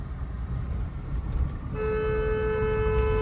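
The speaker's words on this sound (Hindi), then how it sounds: "अब लॉन्ग हॉर्न प्रेस करो" Steady road and engine rumble while turning a car through narrow lanes, then the horn sounds midway and holds a long, unbroken honk through to the end.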